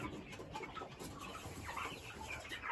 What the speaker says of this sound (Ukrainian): Півнички.